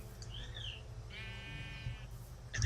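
A Minecraft sheep bleats once in a clear, wavering cry in the middle, with game background ambience and a faint thump near the end.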